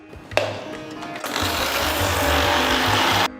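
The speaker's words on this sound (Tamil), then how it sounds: "ஒரு மிக்சர் ஜாரில் 1/2 கப் சர்க்கரையும் ஒரு 4-5 ஏலக்காவும் சேர்த்து நைஸாக பொடிச்சுக்கலாம்." A mixer grinder jar powders sugar with cardamom pods: a brief clatter, then a loud, harsh whirring roar that runs steadily for about two seconds before cutting off abruptly.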